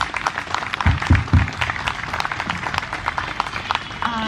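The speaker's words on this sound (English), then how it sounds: "Let's give them a big round of applause, please." Audience applause after a children's performance at an Independence Day celebration in a residential community, a continuous crackle of many hands clapping with a few louder thumps, and voices faintly mixed in.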